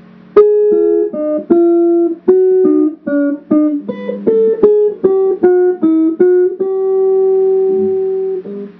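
A clean, plucked guitar melody of the Elfen Lied opening plays alone, single notes picked in a lilting rhythm before settling on a long, sustained final note.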